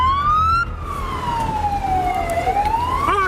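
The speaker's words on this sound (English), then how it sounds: "Turn your sirens off! Turn your sirens off!" A motorcycle police siren wails close by during a chase, its pitch sweeping up and down in a long, loud electronic cycle over low road rumble.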